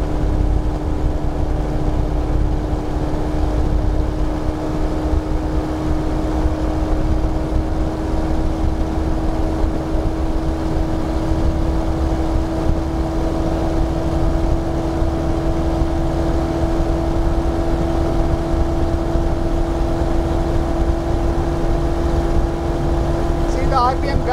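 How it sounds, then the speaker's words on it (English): The Rotax-powered Sinus 912 motor glider's engine drones loud and steady throughout, a constant buzzing tone heard close up during a ground run. "See the RPM gradually increasing, moving towards the maximum level."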